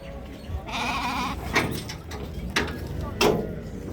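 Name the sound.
sheep bleating at a livestock market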